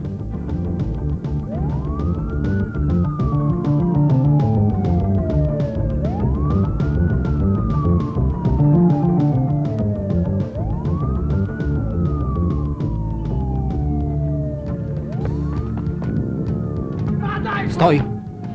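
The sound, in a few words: ambulance siren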